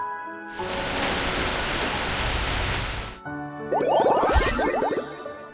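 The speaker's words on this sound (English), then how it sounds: "Rain." Steady, hissing rain pours for about three seconds, then stops and a bright, tinkling chime plays.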